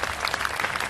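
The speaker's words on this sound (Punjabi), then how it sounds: "ਤਾੜੀਆਂ" A crowd at a cricket match prize ceremony claps steadily for the man of the match, dense and continuous applause filling the whole second.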